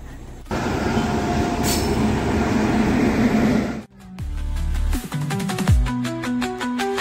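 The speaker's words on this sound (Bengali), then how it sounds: "এখন ট্রেন আসছে" A passenger train rumbles steadily nearby, then brakes and wheels screech and clatter as it slows arriving at a station, with rhythmic clicking toward the end.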